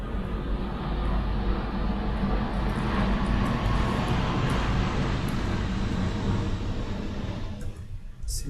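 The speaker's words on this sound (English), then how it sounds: "Seems like the planes are especially loud at the moment." Airplanes fly loudly overhead, making a steady, broad roar that fills the whole stretch and fades slightly toward the end.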